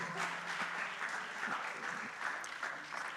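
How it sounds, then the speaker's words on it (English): A gospel church audience claps at a Sunday service, producing a soft, continuous spread of applause from a crowd heard at some distance, with a few sharper individual claps rising out of it. "A round of applause, please."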